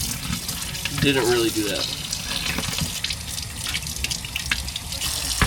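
Shellfish being rinsed under a running tap, steady water splashing into a sink with small clattering knocks while a person speaks briefly.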